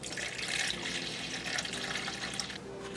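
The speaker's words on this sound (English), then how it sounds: "Then we'll go grab some more water for this." Water running from a tap to mix syrup, a steady loud hissing gush that carries on for a few seconds and eases slightly toward the end.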